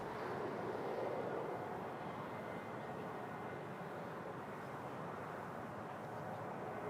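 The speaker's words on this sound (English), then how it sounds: "So KLM taking off." A KLM airliner takes off at Toronto Pearson, a steady broadband jet roar held at an even level throughout, sounding somewhat distant, with no clear voices.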